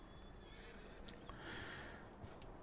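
Horse in a stable in the Farming Simulator 19 video game neighing once, a fairly faint whinny rising over quiet background ambience, with a few soft thuds around it.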